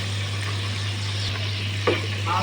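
Fish balls deep-frying in hot oil, a dense continuous sizzle heard up close with a steady low hum underneath and a brief clink near the end.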